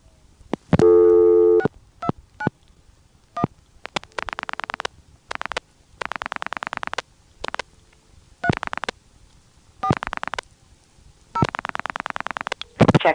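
Dialing on a phone line through an ITT Pentaconta crossbar exchange in Asheboro, North Carolina, 1986: a short burst of dial clicks and tones, then repeated evenly spaced buzzing busy-signal pulses, clear and alone.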